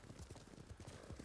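Steady clip-clop of horse hooves as a rider travels at a walk or trot in the samurai game Ghost of Tsushima, an even beat of thuds close by and alone, with no talk.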